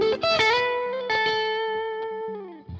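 A distorted electric guitar plays a short lick built on the major scale, a few quick picked notes and then a long sustained note that bends and fades, heard up close with no voice.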